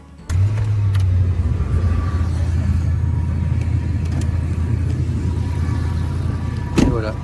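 A car engine starts and idles on a cold winter morning in Chicoutimi, a low steady rumble close by after an abrupt start, continuing evenly with a few faint clicks and a brief higher squeal near the end.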